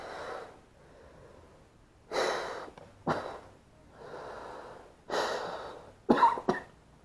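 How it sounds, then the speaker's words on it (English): Deep, slow breaths drawn and pushed out through a homemade gas mask, several hissing, muffled inhales and exhales spaced a second or two apart, close and fairly quiet. "So right now, I'm taking a deep breath."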